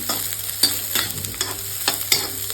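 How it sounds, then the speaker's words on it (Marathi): Onion frying in oil in a pan for a village-style besan and bhakri meal, with a steady close sizzle and several sharp stirring scrapes. No voices. "तेल कमी टाकते. म्हणून आता परत टाकलं, कारण कांदा चांगला तळला का आणखी टेस्टी लागते"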